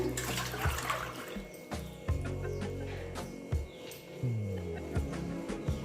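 Water for pani pakoda poured into a vessel, a splashing, gurgling stream with repeated surges and drops over several seconds, fairly close.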